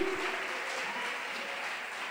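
A church congregation bursts into applause during a Sunday service, a dense, steady wash of clapping that stays even and fairly loud for the whole short stretch.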